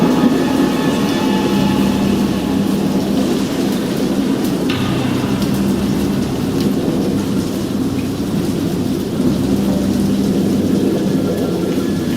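Steady heavy rain pours throughout while low thunder rumbles and rolls continuously beneath it, close and loud with no voices.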